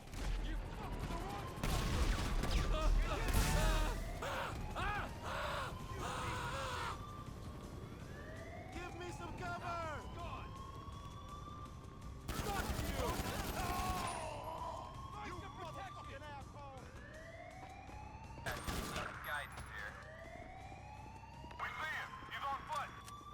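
Rapid gunfire and explosive blasts in a video game battle near a control tower, with repeated sweeping whooshes over a steady rumble, bursts loudest early on and around the middle, while someone talks over the action.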